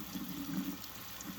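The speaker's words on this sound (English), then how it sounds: "I'm going to put it on kind of a tepid tap water here. Put it on spray, and I go ahead and get one side" Tepid tap water sprays onto a Phalaenopsis orchid, a steady soft hiss and patter close by, continuous and fairly quiet with no talk.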